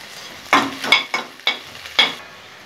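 Chopped onion sautéing in a pan while making veg manchurian, heard as five sharp stirring scrapes and clacks in quick succession over a faint sizzle, close by.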